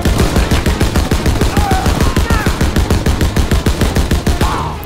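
Rapid, steady automatic gunfire in the video game Call of Duty WWII runs as a loud, evenly spaced stream of shots for several seconds, with brief voices faintly mixed in.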